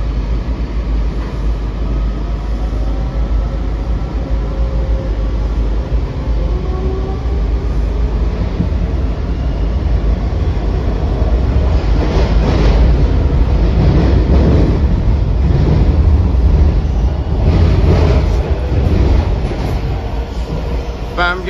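A WMATA Metrorail Silver Line 7000 Series train runs steadily near Rosslyn, with a continuous low rumble of wheels and car noise that swells with louder rattling passages midway and near the end.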